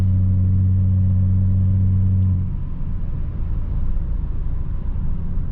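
BMW 730d E38 diesel with a straight-pipe exhaust, 184 hp, rumbles low and deep while cruising through city streets at low revs, the drone shifting as the throttle eases after a couple of seconds.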